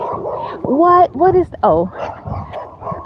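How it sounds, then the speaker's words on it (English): A dog barks and yips nearby during an outdoor walk on a chilly day, several loud, close barks in quick succession, while a person talks over them. "I hear you barking."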